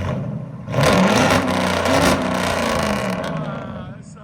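A Ram 1500 with a 5.7L HEMI V8, headers, true duals and a muffler delete revs up sharply, then holds a loud throaty roar that slowly eases off. Voices are heard faintly under the engine.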